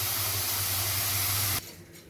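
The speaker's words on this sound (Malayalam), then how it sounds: "അത് നല്ലപോലെ ഒന്ന് വറുത്തെടുക്കണം. എണ്ണയൊന്നും ഒഴിക്കേണ്ട, ഡ്രൈ റോസ്റ്റാണ് ചെയ്യുന്നത്." Dried prawns dry-roasting in a hot pan with no oil, a steady loud hiss and sizzle that cuts off abruptly near the end, leaving quieter background.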